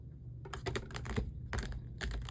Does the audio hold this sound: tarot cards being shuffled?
yes